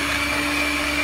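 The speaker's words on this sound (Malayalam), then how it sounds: "നന്നായിട്ട് ബീറ്റ് ചെയ്യുക." An electric beater whirs steadily and loudly through cake batter with sugar and vanilla essence for a choco nuts cake, one continuous motor drone with no pauses.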